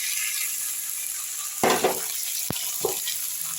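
Steady frying hiss from a pan of spices, with a sudden louder sizzle burst as minced meat is added, then a clink and a brief stir.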